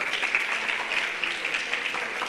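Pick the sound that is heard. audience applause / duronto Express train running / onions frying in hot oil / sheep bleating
audience applause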